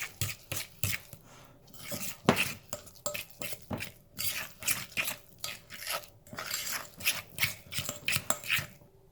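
Wet ingredients with salt and pepper stirred together in a bowl for meatless chick-n-less patties: steady scraping, sloshing strokes in a quick repeating rhythm, close up with no talking.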